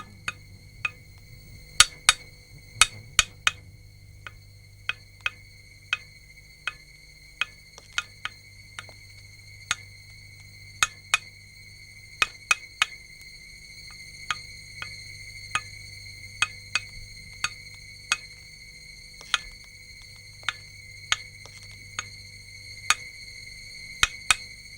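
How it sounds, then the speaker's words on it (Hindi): An old craftsman's tools carve a wooden deity in a dramatized scene, heard as sparse, sharp metallic taps and clinks at irregular intervals of about a second over a quiet, faintly humming background. "व औजारों की आवाज सुनता।"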